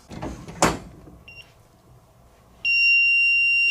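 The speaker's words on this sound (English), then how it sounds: "The alarm's going off." A smart rifle safe is opened with a brief knock and clatter, then a short beep, and after a quiet moment a loud, steady high-pitched alarm tone starts and keeps sounding without a break.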